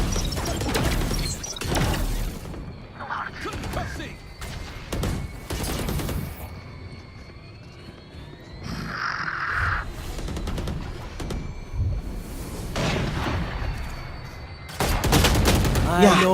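Gunfire in Valorant, several bursts of loud close shots and rapid fusillades separated by quieter gaps, with game effects and some speech around them.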